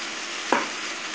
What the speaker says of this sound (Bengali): এবার টমেটো দিয়ে দেবো।